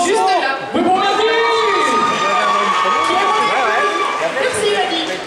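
A crowd at a cosplay contest cheers, shouts and claps loudly and continuously, with voices and excited chatter mixed into the steady roar.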